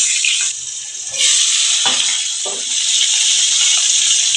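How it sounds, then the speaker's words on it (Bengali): Tangra fish dropped one by one into hot oil, a loud steady frying sizzle with brief splashy bursts as each piece goes in, continuous and close. "আমি কিন্তু মাছ ছেড়ে দিচ্ছি এক এক করে মাছগুলো ছেড়ে দিচ্ছি"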